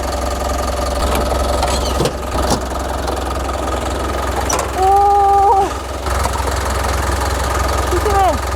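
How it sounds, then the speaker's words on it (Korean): A 2010 Hyundai e-Mighty truck engine idles with a steady low diesel rumble and light knocking, with a few clicks and a short tonal whine midway, and no talk over it. "엔진 소리는 이 마이티 엔진 소리 굉장히 좋은 겁니다"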